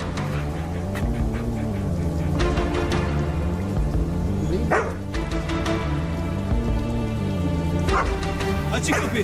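A dog barks and whimpers repeatedly at close range over a steady, loud background wash, with voices mixed in.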